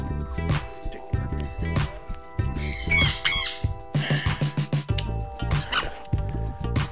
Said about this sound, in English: Damn bird, will not leave me alone.